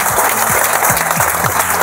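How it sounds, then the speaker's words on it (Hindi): Loud applause from an audience at a business event, given for bonus achievers: dense, sustained clapping throughout with a low rhythmic thumping beneath it. "एक बार जोरदार तालियां हो जाएं बोनस अचीवर्स के लिए"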